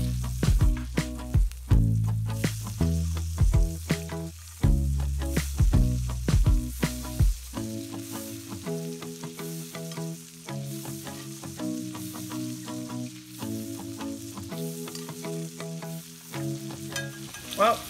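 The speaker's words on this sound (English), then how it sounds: "we're gonna go ahead and throw the meat back in. Oh, and listen to that sizzle" Venison backstrap sizzles in butter in a cast iron pan, a steady close frying hiss with spoon clinks and scrapes from basting, while music plays underneath.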